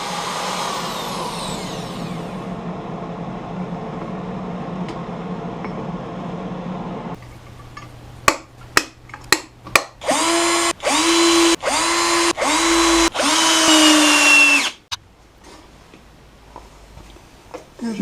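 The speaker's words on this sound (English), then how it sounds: "I sanded down the high center with a 60 grit disc." A 60-grit disc sands down the high center of a wooden bowl on a lathe. A steady whining drone gives way to a few sharp taps, then several loud buzzing bursts of grinding that cut off abruptly, close and without talk.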